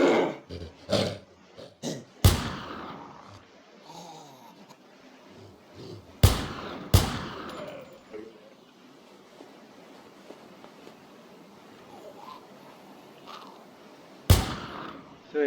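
Unsuppressed gunfire in the zombie survival game Infestation The New Z, several loud, sharp gunshots spaced apart with echoing tails, some quick clustered shots early on, and a voice talking faintly underneath.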